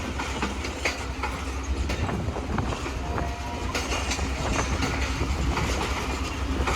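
The Karakoram Express of Pakistan Railways runs on the rails, a loud continuous rumble heard from inside the carriage with rattling and clacking that holds steady throughout.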